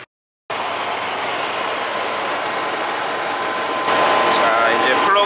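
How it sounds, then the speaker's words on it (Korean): A Chevrolet Chevy Van engine idles steadily after new spark plugs, wires and a distributor cap fix a rough idle; a continuous close hum follows a brief silence at the start and grows slightly louder near the end. "이제 플러그랑 배선을 모두 교환하고 시동을 걸었는데"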